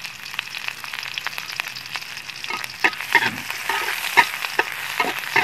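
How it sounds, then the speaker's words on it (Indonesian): Spices, onion and red chili stir-fried in a pan over a wood-fired clay stove, sizzling steadily with scraping and clinking stirring strokes growing busier toward the end, close by and without talk. "Kita tumis dulu bumbunya, kita goreng dulu bumbunya."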